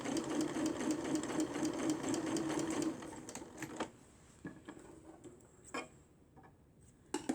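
A sewing machine stitches a second row along a doll petticoat in a steady, close, rapid whirring run of about three seconds, then stops, leaving soft clicks and fabric handling.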